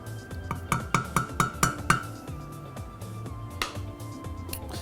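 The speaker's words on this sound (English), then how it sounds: "add 100 millilitres of lemon juice. Give that a stir." Lemon juice being stirred into a sorbet mixture: a spoon clinks rhythmically against a bowl about four times a second, close and clear, then gives way to softer, sparser scrapes and taps.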